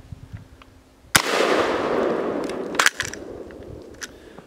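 A single loud blast from a Winchester 1887 12 gauge lever-action shotgun loaded with original brass black-powder shells, a sharp crack followed by a long rumbling roar and then a metallic clack of the action.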